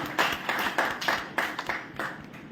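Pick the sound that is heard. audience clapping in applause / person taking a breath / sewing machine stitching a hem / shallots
audience clapping in applause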